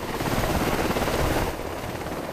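Army aviation OH-58D Kiowa Warrior and Apache attack helicopters rehearse for the Han Kuang military exercise near Taipei Port, producing a loud, steady rotor drone throughout with no voices.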